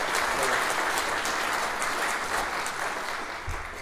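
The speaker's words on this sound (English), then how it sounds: "can we give another round of applause for Sheriff Martin?" A town hall audience in Marysvale, Utah, applauds Sheriff Martin, with dense, sustained clapping from a crowd indoors that tapers slightly toward the end.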